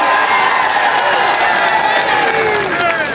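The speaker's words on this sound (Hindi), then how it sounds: "जोरदार ताली बजा के स्वागत करिए, जोरदार और जोरदार।" A large crowd at an Aam Aadmi Party road show in Delhi roars with loud, continuous cheering and clapping, with shouts and voices mixed into the noise.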